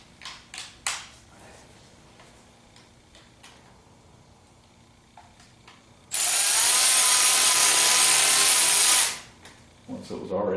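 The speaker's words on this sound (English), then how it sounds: "It's going to be easier with the power wrench." A power wrench drives a bolt during a Holley in-tank fuel pump install on a 1976 Corvette restomod: a steady, loud whirring burst of about three seconds follows scattered clicks and taps of handling the part.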